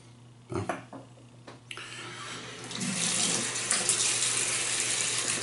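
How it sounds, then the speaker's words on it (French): A shaving brush is rinsed under a running tap after a traditional wet shave, a few light knocks first, then water gushing and splashing steadily, close by. "Rincer ma brosse, vite fait."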